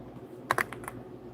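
A short burst of typing on a computer keyboard during a live stream: several crisp key clicks bunched together, then a few scattered taps, close and fairly quiet over a steady room hum.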